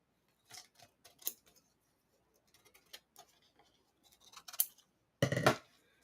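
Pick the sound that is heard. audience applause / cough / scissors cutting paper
scissors cutting paper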